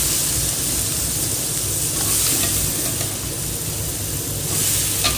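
Long beans tumbling into spice masala already fried in a pan, a steady close sizzle and frying hiss that runs unbroken and loud throughout, with no talk.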